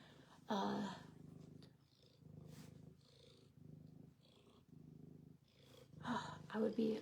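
A friendly cat purrs close by in a soft, rhythmic low rumble, broken up by louder bursts of a person talking.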